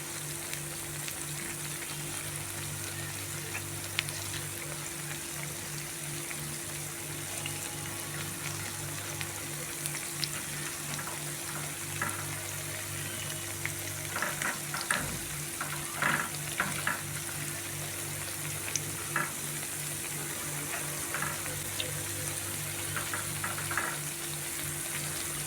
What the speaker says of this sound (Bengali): এবার আমি আস্তে আস্তে একটা একটা করে উল্টো পিঠটা ভেজে নেব।